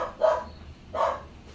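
A dog barks twice outdoors, two short, fairly loud woofs about a second apart against a low background hum, with no one speaking.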